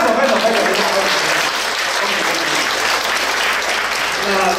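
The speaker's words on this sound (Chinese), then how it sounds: "站起来让我们拍手一下，鼓励一下" A church congregation claps together during a Sunday anniversary thanksgiving service, a dense continuous burst of applause filling the room from start to finish.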